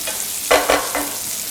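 Small diced pancetta fries in a pan, a steady crackling sizzle broken by a few quick stirring scrapes, close and alone with no voices.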